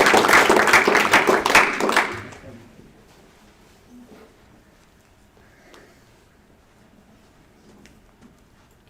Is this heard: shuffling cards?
no